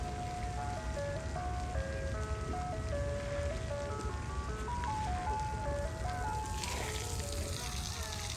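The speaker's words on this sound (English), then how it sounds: "That's an ice cream truck." An ice cream truck plays its tinkling melody in a steady stepping tune, heard outdoors over a constant hiss of traffic and ambient noise, with faint voices of a family nearby.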